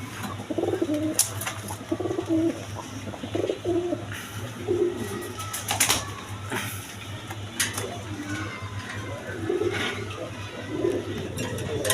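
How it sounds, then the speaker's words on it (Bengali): Two female Rasgolla pigeons coo repeatedly at a pigeon sale, with soft, rhythmic, throaty calls close by over a steady hum and occasional sharp clicks. "দশমীদা এখানে দুইটা রাসগোল্লা কবুতর আছে দেখেন দুটাই মাদি"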